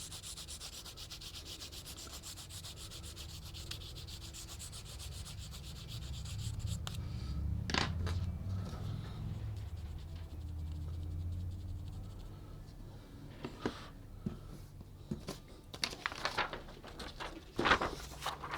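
A graphite-loaded pad rubs and scrubs across paper in close, soft, uneven strokes, swelling and fading, with occasional sharper scratchy bursts near the end.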